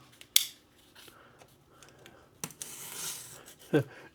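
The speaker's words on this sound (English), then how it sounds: "So we're just going to go ahead and cut the end off here." Cutting the end off a small cardboard box, a few sharp close snips and cardboard scrapes with a brief rasping tear, separated by quiet pauses.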